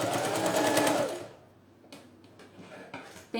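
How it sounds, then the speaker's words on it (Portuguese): A sewing machine stitches close along the edge of a bag pocket, a loud steady whirring run for about a second before stopping, then a few faint clicks and handling sounds. "Vou costurar bem na beiradinha."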